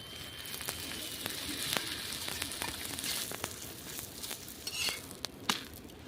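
Vegetable batter bread fries in oil in a pan, giving a soft, steady sizzle broken by scattered sharp crackles and pops, close up with no talk.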